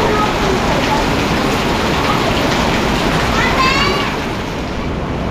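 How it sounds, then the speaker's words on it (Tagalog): Steady, dense rain hissing and pattering close by, loud and unbroken, with no voices. "Ang lakas ng ulan."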